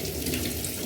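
Running tap water splashing over a freshly cut, peeled vegetable, a brief loud continuous rush of water with no talking.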